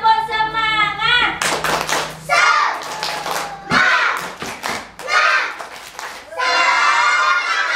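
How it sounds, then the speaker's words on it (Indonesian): Schoolchildren in a classroom doing a rhythmic clapping chant, sharp bursts of group claps in quick sets alternating with loud sung or shouted chant lines. "Baik, tepuk semangat."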